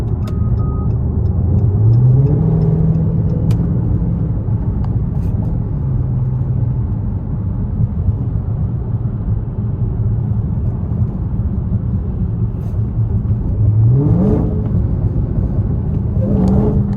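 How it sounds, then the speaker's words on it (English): Dodge Charger Hellcat engine revving loudly up close, a deep steady rumble rising in pitch on a couple of throttle blips, with no talk over it. "Oh yeah, rev, baby."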